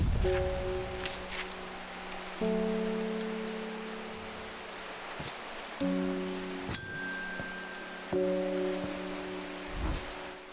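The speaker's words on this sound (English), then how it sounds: "Does it ever stop raining in Undermere?" Steady rain hisses throughout a scene in the video game Strange Horticulture, a soft constant wash beneath chiming musical tones, with no voices.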